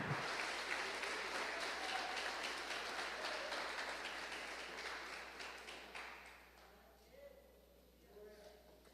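A church congregation claps for Jesus in a fast, continuous burst that slowly fades, with a preacher's voice over the clapping.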